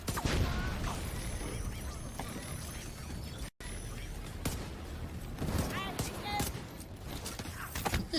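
Rapid bursts of gunfire and clattering weapon mechanics fill a SWAT video game firefight, dense and continuous apart from one brief dropout, with voices talking over the action.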